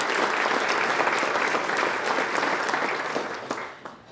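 Steady, dense applause from a luncheon audience honoring event sponsors at a Cheyenne chamber awards gathering, holding full and even before tapering off near the end.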